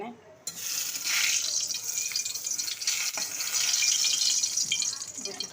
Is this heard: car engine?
no